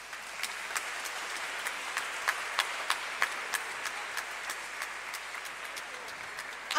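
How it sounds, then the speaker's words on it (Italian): Applause from an audience in the church of S. Alfonso in Francavilla al Mare at the intermission of the Mother Teresa musical, a steady moderate clapping with some sharper individual claps, heard without voices. "Un altro applauso se lo meritano."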